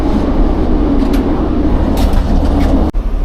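A train in motion, heard from inside a passenger carriage: a steady, loud low rumble with faint rattles that runs continuously, then cuts off sharply near the end.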